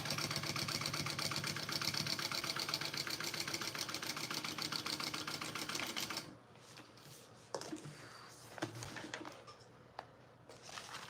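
A sewing machine stitching new vinyl runs in a fast, steady mechanical whir for about six seconds, then stops, leaving quieter handling sounds and a few soft knocks.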